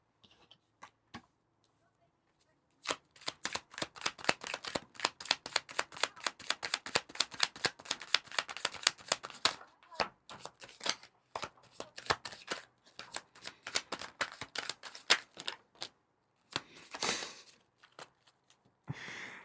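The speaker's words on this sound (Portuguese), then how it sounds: "3 cartas, por favor." Tarot cards are shuffled in rapid riffling bursts, close and fairly loud, with short pauses between runs and a couple of separate flutters near the end.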